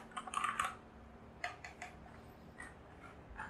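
Typing on an aluminium-bodied Keychron K4 mechanical keyboard: a quick flurry of keystroke clicks at the start, then scattered single and paired key presses, close and fairly quiet over a low steady hum.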